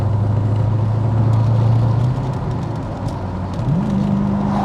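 A twin-turbo Callaway C4 Corvette on a test drive, heard from inside as a loud, steady engine drone with road rumble, the pitch dropping midway and then rising again as it shifts and accelerates.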